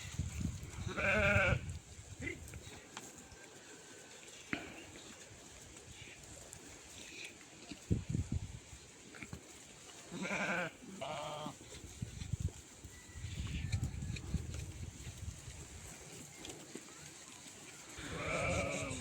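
A flock of sheep grazing in green mountain meadows, with several loud, close bleats rising at intervals over a steady outdoor background, and a voice or two speaking faintly in between.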